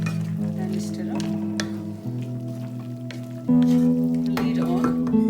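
Carrot laddu mixture with added nuts stirred in a pan on the stove, a steady sizzle and soft scraping strokes running throughout, louder in the last couple of seconds.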